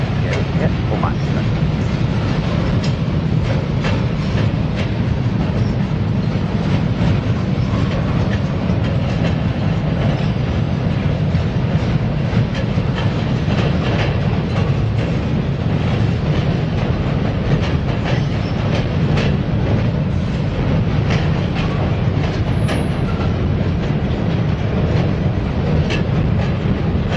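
Freight train rolling across a trestle: a loud, continuous rumble with steady clickety-clack of wheels over rail joints, sustained and close for the whole stretch, with occasional voices underneath.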